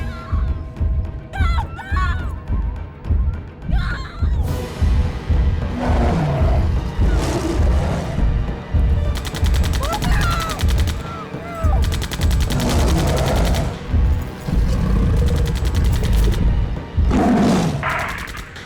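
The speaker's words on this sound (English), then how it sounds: "That sound like gunshots to you?" Bursts of loud gunfire crackle repeatedly across a dense, noisy movie scene, with rapid volleys and sharp cracks mixed among rumbling and chaotic background sound.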